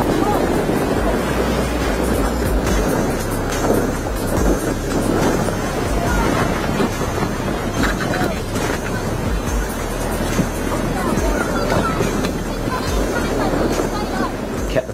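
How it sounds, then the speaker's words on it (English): A yacht pounds through 20-foot waves amid constant roaring wind and crashing seas, a dense, loud rush of water and gusts throughout. "the yacht continued to crash through the 20-foot waves"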